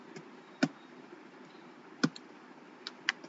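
Faint, sparse mouse clicks on a computer, a few sharp isolated ticks spaced unevenly over a quiet background hiss, no talking.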